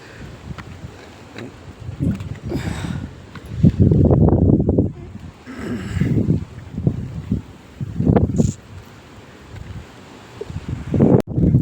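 Strong gusts of wind buffet the microphone on an exposed mountain fort trek, surging in uneven bursts with rustling branches between calmer lulls.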